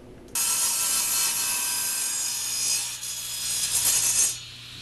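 A power saw cuts plywood table legs to length against a stop, starting abruptly with a loud, bright, close whining rasp that holds for about four seconds before dropping away.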